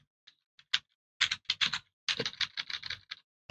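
Close computer keyboard typing, a few scattered taps and then quick bursts of keystrokes with short pauses, no voices.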